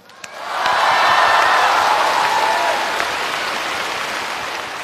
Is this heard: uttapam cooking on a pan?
no